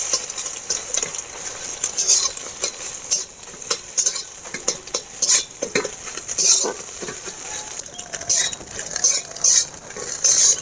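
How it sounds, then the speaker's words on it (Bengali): Metal spatula repeatedly chopping and scraping fried eggs into small pieces in a pan, giving rapid irregular clinks and scrapes over a light sizzle. "ডিমগুলোকে এভাবে ছোট ছোট করে আমি খুন্তিয়ে কেটে নিয়েছি।"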